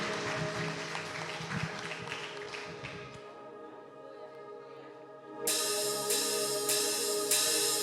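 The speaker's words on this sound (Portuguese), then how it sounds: "Vamos aplaudir o Senhor e vamos cantar e adorar com alegria o Senhor." Church congregation clapping during a Sunday evening worship service, a dense steady wash of many hands, softer in the first half and swelling louder after a brief lull, with music underneath.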